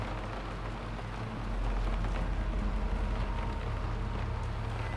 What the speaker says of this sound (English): Still hear the rain.